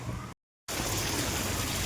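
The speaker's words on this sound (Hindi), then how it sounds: "बारिश हो रही है यहाँ पे पानी में" Heavy rain pours into water outdoors as a dense, loud, continuous wash of spattering and splashing. A brief dropout cuts in near the start.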